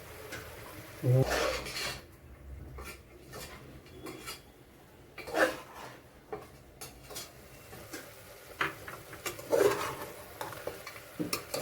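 Chicken sizzling and frying in a pan, starting to release water, with repeated scraping and stirring clatter from a utensil, fairly close and steady throughout.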